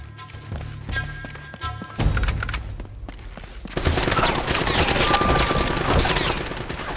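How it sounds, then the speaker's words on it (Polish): Rapid bursts of automatic gunfire in the video game Uncharted 4, sparse at first then building into a dense, sustained barrage of loud overlapping shots. "on strzela też seriami"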